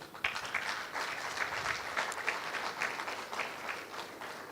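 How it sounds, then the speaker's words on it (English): Sustained applause from an audience, a steady rush of many hands clapping at moderate volume throughout. "Please, let's continue clapping"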